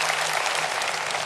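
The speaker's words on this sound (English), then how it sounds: "the audience claps" A theater audience rises in a standing ovation, steady dense clapping filling the whole moment at an even, sustained level with no voices standing out.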